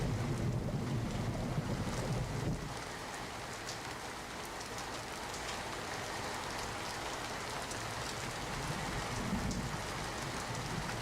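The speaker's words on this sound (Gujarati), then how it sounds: "સતત ધોધમાર વરસાદના કારણે નીચાણવાળા વિસ્તારોમાં પાણી ભરાઈ ગયા છે" Heavy rain pours steadily over Kutch, a dense unbroken hiss of drops hitting surfaces with some wind buffeting the microphone, loud and constant throughout with no voices.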